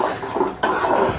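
Spices, onion, turmeric, chili, ginger, garlic, coriander and cumin being stirred in oil in a wok for a pangas fish curry, with a metal utensil scraping and clinking against the pan in uneven strokes over a soft sizzle.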